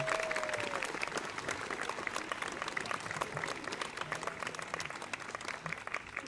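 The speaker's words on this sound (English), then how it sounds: "can we give another round of applause to our band, our strings, and our chorus" Steady, dense applause from a school audience at an eighth grade recognition night, honoring the band, strings and chorus; continuous clapping fills the hall at even volume, with a brief voice or tone near the start.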